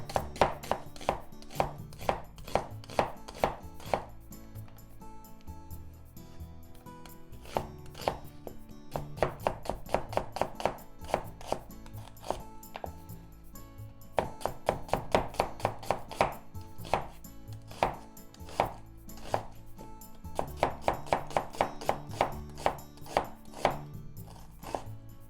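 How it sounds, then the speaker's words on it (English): A knife slices peeled food thinly on a cutting board in quick, steady bursts of crisp taps, pausing briefly between runs, close and clear with no talking. "Cut into half, then slice thinly."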